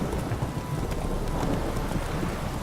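Heavy rain pours down steadily in the video game The Witcher 3, a dense, hissing wash with a low rumble underneath, loud and continuous.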